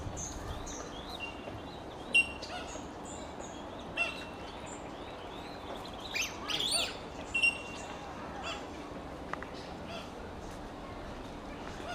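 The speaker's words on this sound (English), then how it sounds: "So a lot of wetlands birds in here, long-legged waders." Wetland birds such as ibis, cormorants and long-legged waders in a zoo aviary, scattered chirps, squawks and caws rising over a soft steady background hum.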